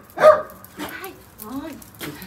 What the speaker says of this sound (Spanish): Una bola de perritos.